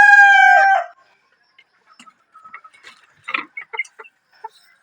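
Black Spartan rooster crowing once, close and clear, at the start, followed by scattered soft clucks and small farmyard knocks.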